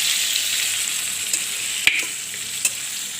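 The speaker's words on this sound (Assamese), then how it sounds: "মাংসটো অলপ টান যিহেতু আপোনালোকে অলপ ভজাৰ পিছত কুকাৰত এনেকৈ ঢালি দিব।" Tough meat fries in a pan before going into a pressure cooker, giving a bright, steady sizzle up close, broken by a few sharp scrapes and clicks of the stirring spoon, with no talking.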